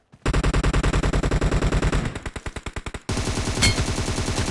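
Rapid automatic gunfire in the battle royale game BGMI, loud and close, a long burst of fast repeating shots that slows, breaks off, then resumes as a denser rattling volley.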